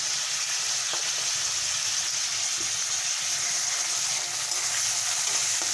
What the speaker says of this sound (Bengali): ভালো করে আলুটাকে আমি ভেজে নেব